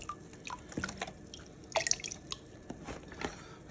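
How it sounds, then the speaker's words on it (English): Stock for jambalaya dribbles into a big pot in scattered, irregular drips and small splashes, quiet and close, with no voices. "once I pour it all in the big pot and see how it does"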